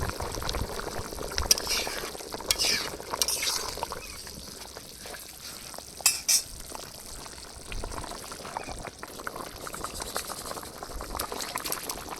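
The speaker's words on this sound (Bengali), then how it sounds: "তরকারি ফুটে উঠেছে আর কচুগুলো পুরো সিদ্ধ হয়ে গেছে" Taro curry bubbles in a pot, a steady close-up boil with irregular blips and pops that swell and ease over the length of the sound.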